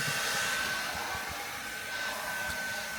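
A hair dryer blows steadily, powered from an All Power portable battery station, its broad airy whoosh with a faint high whine holding level and close for the whole stretch, no voices over it.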